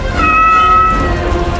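A cat meows loudly in a drawn-out, wavering cry that lasts over a second, with a low rumbling background beneath it.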